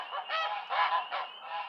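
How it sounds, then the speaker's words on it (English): Geese honk repeatedly at an off-grid homestead, a run of four or five nasal calls in quick succession, fairly close and clear with no talk. "And the geese."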